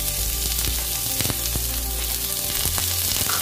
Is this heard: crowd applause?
no